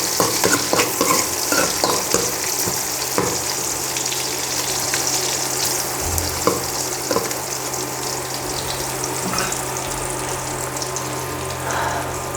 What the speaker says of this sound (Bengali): পেঁয়াজটা এখনও ভাজা ভাজা হয় নাই